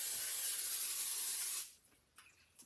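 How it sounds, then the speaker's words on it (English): Cooking spray hisses onto a baking pan in one steady, close burst of about a second and a half, then cuts off, leaving faint handling sounds. "spraying one side of the pan"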